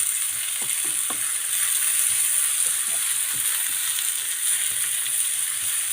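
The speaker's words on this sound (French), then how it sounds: "On remue." Chopped leeks and onions are stirred in a hot pan, giving a steady close sizzle broken by soft irregular scraping and tapping from the stirring utensil; no one speaks.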